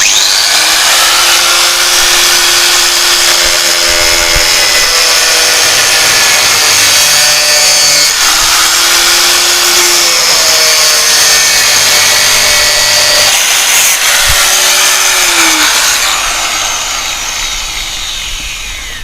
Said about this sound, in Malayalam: അപ്പോൾ ഉണ്ടല്ലോ നമ്മളിത് ഗ്രൈൻഡർ ഉപയോഗിച്ചിട്ടാണ് കട്ട് ചെയ്യാൻ പോകുന്നത്